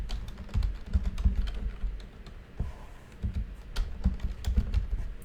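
Rapid irregular keystrokes on a computer keyboard, close and fairly loud, clattering in uneven bursts with brief pauses while someone types and thinks.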